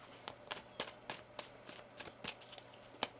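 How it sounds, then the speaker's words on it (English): Tarot cards are shuffled in quick riffling bursts, a dozen or so crisp papery snaps in an uneven rhythm, close and fairly quiet with no voice over them. "One more shuffle here."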